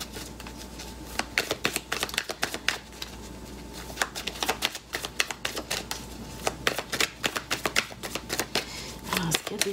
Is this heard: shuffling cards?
yes